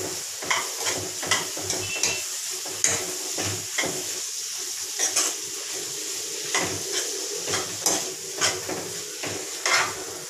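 Prawns fry and are stirred in a pan of chili masala oil. A steady sizzle carries on throughout, broken by regular scraping strokes of a spoon against the pan, with no talking.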